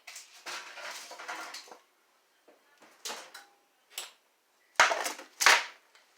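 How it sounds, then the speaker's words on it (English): A baking pan of cookies comes out of a home oven in separate bursts: a door clunks, metal scrapes, and the sheet clatters sharply onto a surface, with short silences between the loud knocks. "Okay, I'm going to take the cookies out of the oven."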